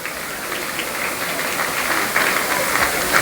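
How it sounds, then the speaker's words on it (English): Audience applause at a gala evening event, a steady wash of many hands clapping that swells slightly near the end, moderately loud and continuous with no talking over it. "please give everyone a big round of applause for working so hard"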